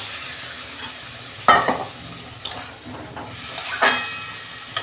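Mixed vegetables hiss and sizzle in a pan under a steady frying wash, with several sharp scraping stirs of a spatula against the metal.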